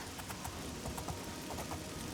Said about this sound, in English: the tingling of the rain on my armor